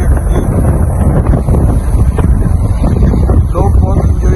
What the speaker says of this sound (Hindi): बहुत ही हवा चल रही है ठंडी ठंडी